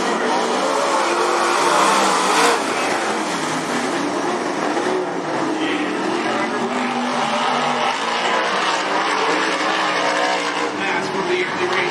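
Race cars circling the Cottage Grove Speedway oval on a short four-lap trophy race, a continuous loud engine roar sustained throughout and rising briefly near the start, with commentary faintly under it.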